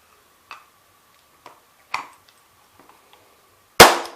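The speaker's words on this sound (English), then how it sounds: "Spin your cylinder again." Powder actuated revolver cylinder spun by hand, heard as a few sparse, crisp mechanical clicks and ticks spaced about a second apart, ending in a loud sharp snap.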